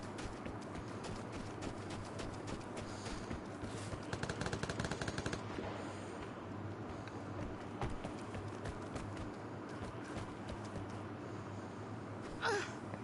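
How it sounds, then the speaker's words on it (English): Video game ADR rifle gunfire, bursts of rapid automatic shots crackling densely over a steady background hum, with a gasp-like sound near the end, no talk. "He could just shoot me with the ADR."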